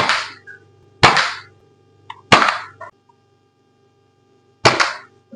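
Three sharp, loud snaps from a toy gun firing a loaded bullet, spaced about a second or two apart with a fourth after a pause, each followed by a short ring; no talking.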